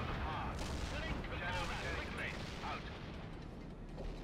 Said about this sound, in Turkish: Tepeden gelen bombardımanlar çok fena vuruyor yani